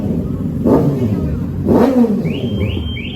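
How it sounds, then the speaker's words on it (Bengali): Sports motorcycles on a Sunday ride from Kolkata rev loudly as they pull away one after another, two strong engine surges rising and falling close by, followed by a few higher whining passes. "সব স্পোর্টস বাইকগুলো এখন বেরিয়ে যাচ্ছে।"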